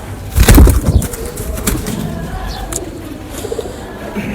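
Champion pigeons coo up close in a loft, a loud burst of cooing at the start followed by softer repeated coos and light rustling over steady background noise.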